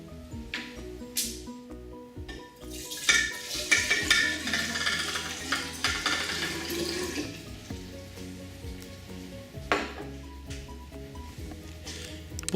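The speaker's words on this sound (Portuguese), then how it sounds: "Agora, adicionaremos água na proveta" Water is poured into a glass graduated cylinder in a physics lab setup, a steady splashing and trickling stream with bubbling that swells and fades over several seconds, close and moderately loud.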